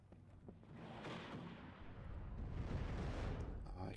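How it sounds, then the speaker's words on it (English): Gunfire and bullets in the wargame WARNO, a continuous dense crackle of small-arms and heavier fire with rumbling bursts, steady and moderately loud throughout with a possible voice underneath. "bullets flying in the south, where the TOW2 is fighting against the BMP-1s, and the Modschützen running forward"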